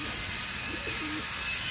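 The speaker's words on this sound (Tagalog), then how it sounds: "Ayan ang mga alagang kalapate." Pet pigeons coo softly in a short, low-pitched burst, heard faintly against steady background noise with no talking.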